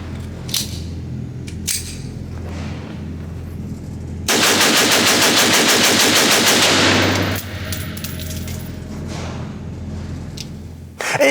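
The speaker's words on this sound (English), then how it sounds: "try another mag dump with the CCI Maxi Mags" A Rock Island Armory M1911 XTM22 pistol in .22 WMR, loaded with CCI Maxi Mag ammunition, is emptied in a rapid, continuous mag dump lasting about three seconds, loud and close, with quieter handling before and after.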